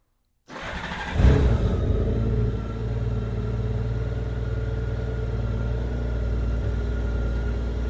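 A Honda GL1800 Goldwing motorcycle engine cranks and fires up, revs briefly, then settles into a steady, deep idle rumble close by.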